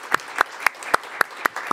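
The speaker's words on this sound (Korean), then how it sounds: "큰 박수로 환영해 주시기 바랍니다" Applause welcoming someone during a church service, heard as a sparse, regular clapping of roughly seven distinct claps, close and crisp with little crowd fill.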